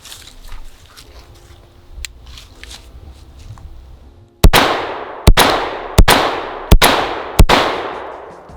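Buckshot shotgun blasts from a Beretta A300 and Benelli M4 ring out in five loud, evenly spaced shots, each with a sharp crack and decaying echo, after a quieter stretch of shuffling.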